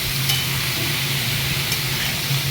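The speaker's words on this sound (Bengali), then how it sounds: "ঝিরিঝিরি করে কেটে রাখা চাল কুমড়োটা দিয়ে দিলাম চারকো মশলা দিয়ে এবার নেড়ে চেড়ে ভালো করে ঢেকে দেবো" Chopped ash gourd with spices sizzles steadily in a pan while being stirred, a constant close hiss with a low hum beneath and a couple of faint utensil clicks.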